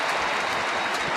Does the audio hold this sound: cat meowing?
no